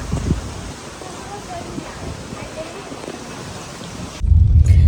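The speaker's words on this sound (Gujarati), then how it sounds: "બહુ જોરદાર પવન ચાલી રહ્યો છે અત્યારે" Strong wind roars steadily across the mic, with rustling noise throughout and a heavy, rumbling gust buffeting in near the end.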